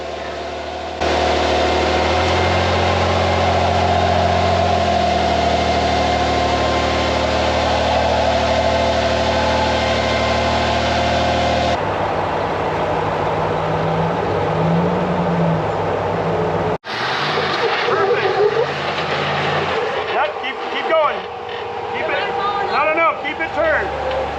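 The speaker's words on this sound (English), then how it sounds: "Here's Max Chase in his Rock Lizard buggy with massive 47-inch tires and rear steer." A Rock Lizard rock crawler buggy with 47-inch tires and rear steer works off-road at Sand Hollow, Utah, its engine droning and revving steadily near the microphone, with a shift in tone partway through and people talking over it.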